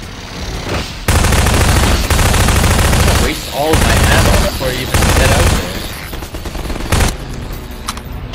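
Loud, rapid automatic gunfire in the Half-Life 2 video game, coming in long sustained bursts separated by brief pauses, close and harsh throughout.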